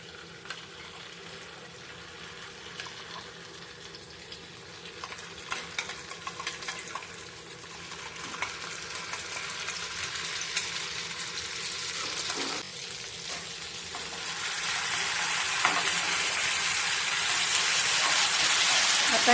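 Chopped garlic and green chilli paste fry on a hot tawa while being stirred, giving a continuous hissing sizzle that grows louder and brighter toward the end, with scraping stir sounds throughout.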